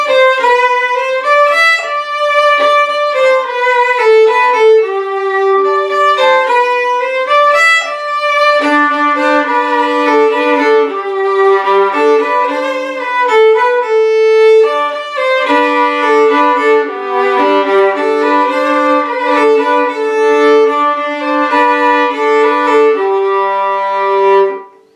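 A fiddle plays a simple French tune with a lopsided waltz-like rhythm, loud and continuous, a steady stream of bowed melodic notes with some double stops, ending abruptly.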